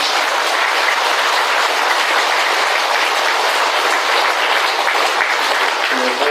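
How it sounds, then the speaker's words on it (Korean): Sustained applause from a Buddhist temple congregation at a dharma service, a steady dense wash of clapping filling the whole stretch without pause. "박수 한번 보내서"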